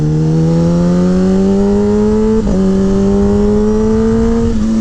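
A Kawasaki Ninja ZX10-R motorcycle in low power mode accelerates hard up close, its engine note climbing steadily, dipping briefly at a gear change halfway through, then rising again.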